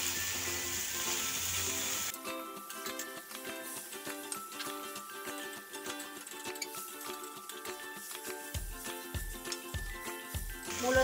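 Radishes dropped into a hot pan, a sudden burst of sizzling after a quieter opening, then a continuous dense crackle with clinking stirring near the end, no talking.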